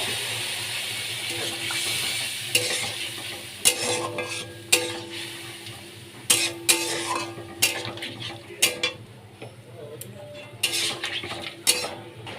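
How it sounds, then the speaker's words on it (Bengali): Spices frying in a pan for a fish chorchori, with a sizzling bed under repeated sharp spoon-on-pan knocks and stirring clatters spread across the clip, close and fairly loud, no talk. "এবার এর মধ্যে আমি কিছুটা জল দিয়ে দেবো।"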